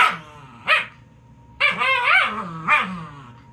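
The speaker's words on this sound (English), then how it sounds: "There is barking in the next clip, just to let you know." A dog barking nearby, four sharp loud barks with short growly tails, spaced irregularly against a quiet room background.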